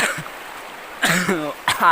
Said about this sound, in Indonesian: Batuk euy.